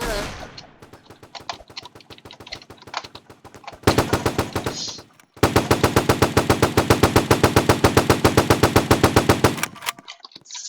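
Rapid automatic gunfire in a Fortnite-style Roblox game crackles in short bursts, then erupts into a long, loud, sustained stream of shots before cutting off.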